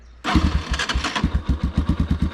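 A Dakar 250 enduro motorcycle engine cranks and fires up, then settles into a loud, close, lumpy idle with steady rhythmic pulses, idling somewhat low.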